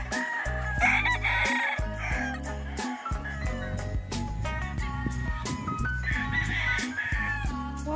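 Roosters crow and chickens cluck on a cockfighting farm, with repeated loud crows and busy clucking close by, layered over one another for several seconds.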